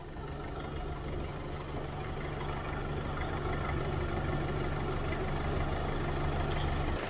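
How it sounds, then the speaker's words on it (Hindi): A diesel car engine idles in neutral with the bonnet closed and the air conditioning running, heard from outside as a steady, even low rumble with a constant hum, moderately loud and continuous, with no voices. "और ये साउंड है डीजल इंजन की विथ बोनट ऑन।"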